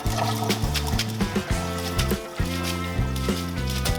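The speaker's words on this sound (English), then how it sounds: "drain the water and rinse the noodles under cold running water" Water drains from cooked glass noodles, a close, uneven gurgling and trickling pour with bubbly pulses, heard alone without talk.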